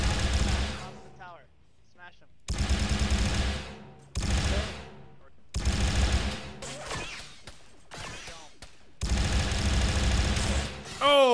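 Heavy volleys of gunfire in Star Wars-themed Arma 3 combat against a droid fortress, loud bursts arriving in separate blocks with short quiet gaps between them.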